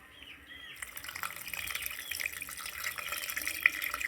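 Water runs steadily as a mixer jar is rinsed and filled. The flow starts after a short quiet moment and continues close by with a constant splashing hiss.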